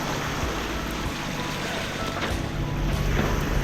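A sailboat's engine drones steadily through a flat calm sea at sunset, a continuous low rumble with faint water wash over it, constant and moderately near throughout.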